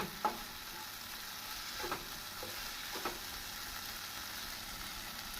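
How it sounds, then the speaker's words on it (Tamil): Mint leaves and tomato sauté in a pan with a soft, steady sizzle, broken by a few light stirring clicks, quiet and without voices. "இவை அனைத்தும் நன்றாக வதக்க வேண்டும் நம் புதினா இலை போடவும் நன்றாக வதங்கி வந்துவிடும்"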